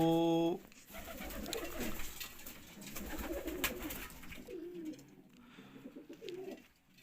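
Domestic pigeons coo softly and repeatedly inside a closed home loft room, low rounded calls close by with faint background noise and occasional talk.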